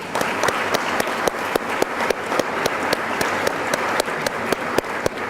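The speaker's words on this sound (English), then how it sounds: "Let's give the parents a round of applause." A crowd at a 2014 Better Business Bureau awards ceremony applauds the parents with sustained, even clapping at close range that holds steady throughout, with no talking.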